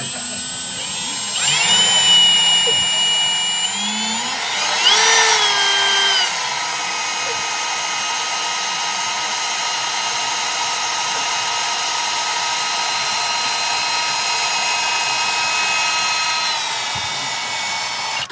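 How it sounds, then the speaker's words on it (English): A power drill with a left-handed bit bores into rusty welded metal on a 1962 Ford Thunderbird, a loud sustained whine that rises and shifts pitch at first, then runs steadily at close range with brief voices early on. "I'm using the left-handed bit."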